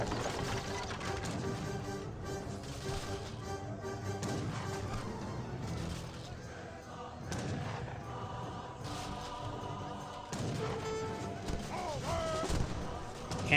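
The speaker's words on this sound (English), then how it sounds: "Cannoneer is taking some pot shots" Cannon blasts and musket gunfire pop in scattered, overlapping bursts during a battle in the strategy game Age of Empires 3, moderately distant and mixed under busy game sounds.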